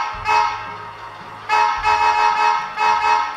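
Three loud, close horn toots, each held for about a second, come from a DCC-controlled model train locomotive, with a low motor hum under them and no talking.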